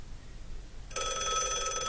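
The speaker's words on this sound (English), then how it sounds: "Old telephone ringing." An old telephone's bell bursts into a loud, continuous metallic ring after a short quiet lead-in, rattling on steadily to the end.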